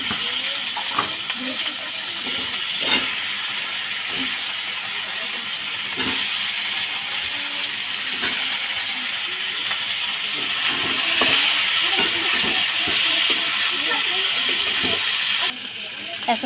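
Tomatoes and onions hiss and sizzle steadily in a hot wok, a loud broad spitting sound with occasional clinks, under speech.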